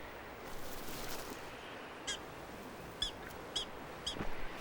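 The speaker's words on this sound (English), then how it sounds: "It sounds kind of like a dog yapping. Hear that? That's a prairie dog." A prairie dog gives its yapping alarm call, a handful of sharp, high, squeaky barks spaced about a second apart over a steady outdoor hiss, moderately near.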